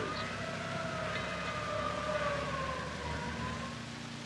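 Wailing fire engine siren from a 1950s 16mm classroom film about night workers, rising and falling steadily over a continuous rumble, fairly loud and alone for the whole stretch.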